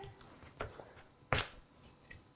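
A knife dices a sweet potato into cubes, giving a few soft, scattered cutting strikes with one sharper chop, all fairly quiet against a low background.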